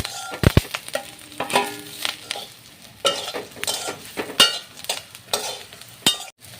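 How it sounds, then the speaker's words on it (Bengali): Eggplant pieces go into a pan of half-fried neem leaves, with sizzling frying, a spatula stirring and scraping, and metal clinks against the pan in irregular bursts. "আর এবারে কিন্তু আমি এর ভিতর বেগুনগুলোকে দিয়ে দেবো।"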